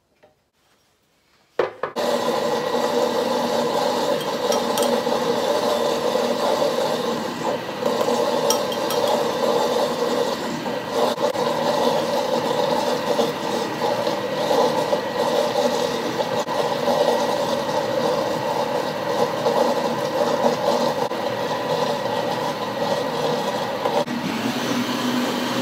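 Electric mixer whirring steadily as it blends warm water with semolina for a batter, starting abruptly and running loud and continuous with a faint scraping texture throughout.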